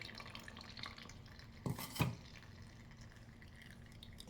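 Ground henna juice strained through a small mesh tea strainer, with a couple of faint liquid drips and soft wet stirring scrapes, quiet and close, over low background hum.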